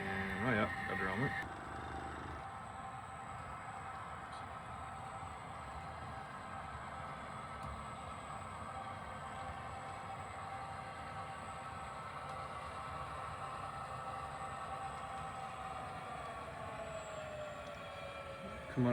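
Four HO scale model diesel locomotives fitted with ESU LokSound decoders drone steadily in dynamic braking on a BC Rail layout, a continuous engine hum with horn-like tones early on, under people talking.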